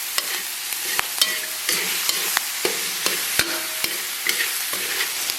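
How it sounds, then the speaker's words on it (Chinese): Minced pork stir-fried over low heat with soaked shiitake mushrooms, wood ear fungus and sauce in a wok, a steady sizzle broken by sharp metallic scrapes and clinks of the spatula at irregular intervals, close and clear with no talking. "小火给它继续煸炒。"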